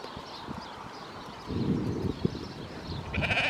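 Sheep on a farm bleat in short repeated calls over low background noise and shuffling, with one louder, nearer bleat in the middle and more calls toward the end.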